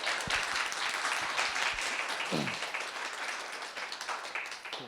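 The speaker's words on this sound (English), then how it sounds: "if we can give Ray a round of applause" Applause from an audience honoring a retired helper at a talk on a city landfill's history, a steady moderate wash of clapping with a brief voice or whoop rising through it, thinning slightly near the end.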